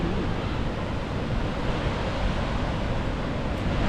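Ocean surf at Ocean View Beach in Pacifica, California, roars as a continuous, loud wash of breaking waves, with wind buffeting the microphone and no voices.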